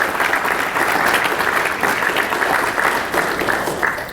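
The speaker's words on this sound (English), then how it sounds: "Can we have a round of applause for those individuals?" Steady audience applause at a junior leadership summit, dense continuous clapping from a crowd filling the whole stretch without pause.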